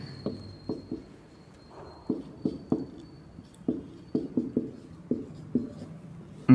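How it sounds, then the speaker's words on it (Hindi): Chalk or marker on a classroom board while writing out a chemistry equation, producing a series of distinct taps and short strokes in irregular clusters, close and fairly clear over a quiet room. "अब देखो मैं यहां पे अभी लिखता हूं आपके सामने"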